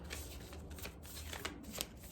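A deck of smooth tarot cards is shuffled close by, with a continuous soft riffling and slapping and a few sharper snaps, and no voices heard.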